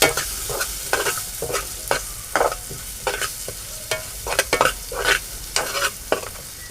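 Onions sautéed in a pan for a pointed gourd (parwal) vegetable dish, with repeated scraping stir strokes in an uneven rhythm over a steady background sizzle, close and fairly loud, with no talking.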